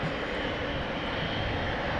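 A KLM Boeing 777 heading for Bangalore from Amsterdam Schiphol gives off a low, distant, steady jet engine rumble, fairly quiet and unbroken, with no talk.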